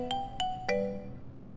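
A phone rings in a police-station scene of an Indian television drama: three bright electronic chime tones sound in quick succession, the last held a little longer, then fade into quiet room tone.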